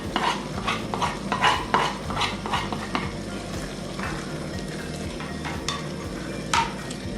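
Spoon stirring a bean curry with coriander and coconut in a pan, with scraping strokes against the metal over a steady background sizzle, fairly close and continuous.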